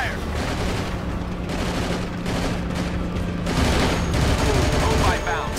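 Dense bursts of automatic gunfire and explosions from the PS2 video game Battlefield 2: Modern Combat, loud and continuous, with shouted soldier dialogue mixed in.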